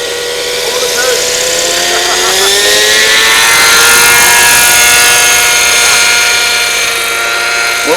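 A CCPM model helicopter flying over the coast gives off a loud, steady high-pitched rotor and motor whine that rises and falls in pitch as it maneuvers, close and continuous throughout.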